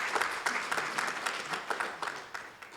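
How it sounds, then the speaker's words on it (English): Audience claps at a digital finance training presentation, a lively round of applause with uneven individual claps audible across the crowd, moderately loud throughout. "I think this requires a big round of applause for you, sir."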